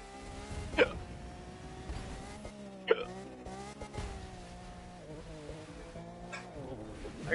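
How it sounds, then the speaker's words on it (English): Sharp hiccups from a person gaming with friends, a few abrupt catches at irregular intervals over steady game music and engine hum from The Crew 2. "I got major hiccups right now, boy."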